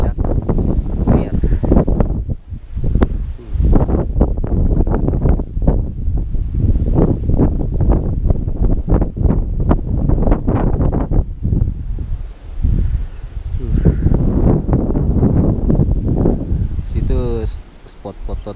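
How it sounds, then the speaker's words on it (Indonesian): Strong wind gusting across the summit of Sekunir hill in Dieng, a loud continuous roar and buffeting on the microphone with shifting surges, a voice talking over it for much of the time. "tapi ini anginnya lebih kencang"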